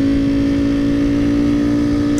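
A 2018 Ducati Panigale V4R motorcycle holds high revs nearby, a loud, steady, harmonically rich engine drone that rises gently and ends abruptly.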